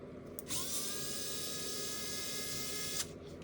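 A screw is backed out of a knife sharpener, heard as a steady motorized whine that starts abruptly, runs for about two and a half seconds and stops sharply in an otherwise quiet room.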